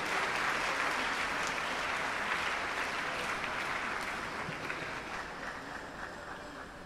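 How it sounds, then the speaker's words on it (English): Steady applause from a congregation at a priestly ordination ceremony for the Society of African Missions, dense and continuous throughout, easing slightly toward the end. "A round of applause once more."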